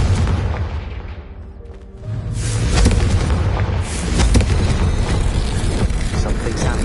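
Confringo spell explosions in the video game Hogwarts Legacy: loud, heavy booming blasts with rumbling low end that swell and linger, a brief dip before a second big burst, then sustained crackling impact noise.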